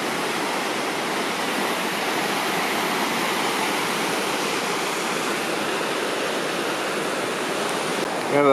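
A mountain stream rushes steadily past someone panning for gold outdoors, a loud, constant broadband wash of flowing water that holds unchanged throughout with no speech.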